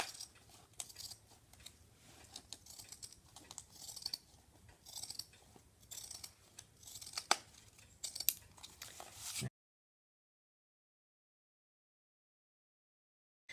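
Scissors snip through two folded layers of fabric for a dress, making a series of close, crisp, irregular cuts and rustles that stop abruptly into silence.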